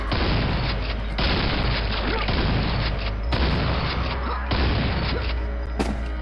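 Homing missiles in Quake launch and burst in a rapid series of loud booms and thuds, several explosions overlapping over a continuous low rumble.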